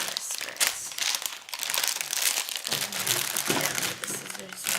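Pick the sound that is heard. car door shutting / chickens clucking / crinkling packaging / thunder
crinkling packaging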